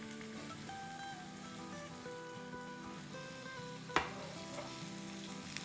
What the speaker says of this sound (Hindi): इसको सॉटे करेंगे थोड़ा सा।